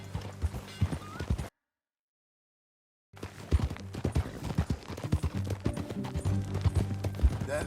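Steady clip-clop of a video game horse's hooves trotting close by, with a brief silent gap before the rhythmic hoofbeats resume, and a horse's whinny mixed in.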